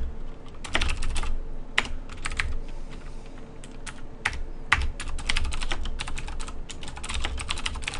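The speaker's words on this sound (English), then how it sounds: "You might be able to hear the clicking of my keyboard" Steady clicking of a mechanical computer keyboard during typing, close and fairly loud, with irregular bursts of keystrokes and brief pauses throughout, no voices.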